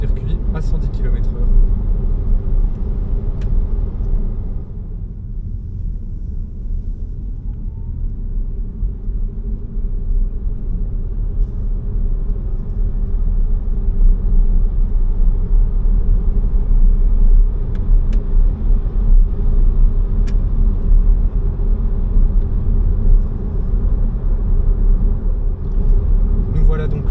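Steady road rumble and cabin drone from a Renault Megane E-Tech electric car towing a trailer at 110 km/h, loud and continuous throughout with a dip near the start, and a voice talking over it.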